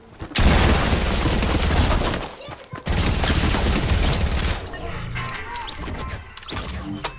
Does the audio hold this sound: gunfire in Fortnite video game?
yes